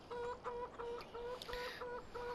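Chickens cluck in Farming Simulator 17 on the Goldcrest Valley map, a steady run of short, evenly spaced tonal clucks, moderately close and alone over faint background noise.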